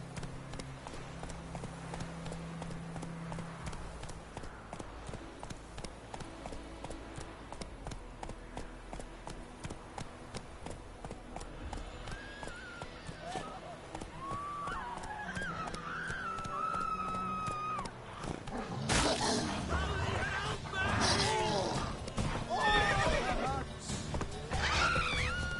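Roach the horse gallops in Witcher 3, steady hoofbeats running under game music and effects that swell louder toward the end.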